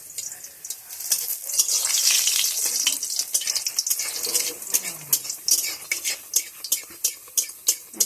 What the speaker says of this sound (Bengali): এবার চলো পরোটাটা ভেজে নিই